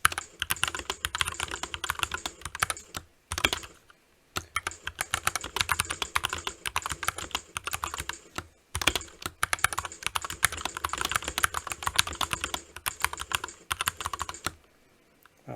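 Fast typing on a SteelSeries Apex 9 gaming keyboard, with dense, rapid key clicks in steady bursts, two brief pauses between runs and no talking.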